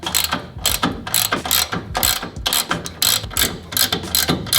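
A ratchet with a 17mm socket tightens the top bolts of a FOX Performance Elite 2.5 shock on a Toyota Tacoma, giving rapid repeated clicking bursts in a steady back-and-forth rhythm, close and clear with no voices.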